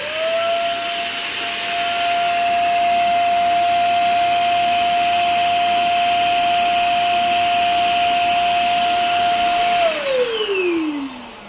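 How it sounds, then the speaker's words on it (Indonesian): An H&L HL419 electric paint sprayer runs with a loud, steady high-pitched motor whine and airy hiss, close up and alone, then spins down at the end. "langsung saja kita nyalakan ya"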